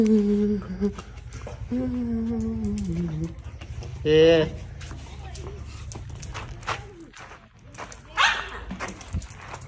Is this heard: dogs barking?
yes